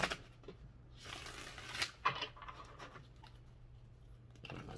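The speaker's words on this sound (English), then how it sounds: "Let's get a couple of more shuffles" Tarot cards riffled and shuffled in two quick bursts near the start, followed by softer handling and shuffling of the deck in a quiet room, with no talk.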